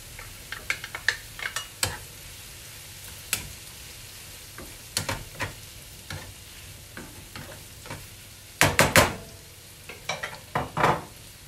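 A spoon stirs chickpea and pumpkin soup with tomato in a pot, giving irregular scraping clatters against the pot over a soft sizzle, with a louder burst of strokes near the end.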